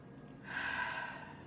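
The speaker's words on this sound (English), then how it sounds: "a couple of nice deep breaths" A slow, deep breath drawn in and let out, soft and close, rising after a quiet start and trailing off gently with no talking.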